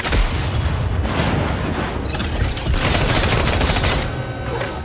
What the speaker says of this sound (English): the sound design is actually pretty good. I mean, the guns feel appropriately punchy